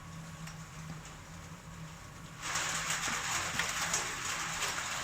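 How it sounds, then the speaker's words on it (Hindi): Heavy monsoon-style downpour in Rajasthan, a dense steady hiss of rain that swells noticeably louder partway through, continuous with no voices. "करौली में भी आज मूसलाधार बारिश का दौर जारी रहा।"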